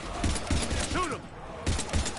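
Bursts of gunfire aimed at Husks in the Mass Effect 3 video game, sounding as repeated loud shots in quick clusters, with a short lull midway, mixed with game sound effects and a shouted voice.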